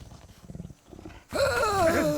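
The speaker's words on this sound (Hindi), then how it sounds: "ये तो बाघ है।" After some low rumbling thuds, a loud snarling roar of a tiger bursts in and holds, close and harsh.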